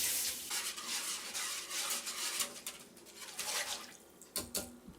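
Hot water, about one and a half gallons, poured into a container of turkey brine, giving a steady rushing, splashing flow with a few sharper splashes near the end, heard close with no talking.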